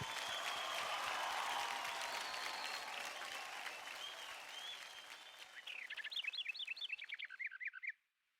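Loud applause from a dance-show audience, a dense sustained roar of clapping with cheers that fades out, and rising whistle-like tones near the end.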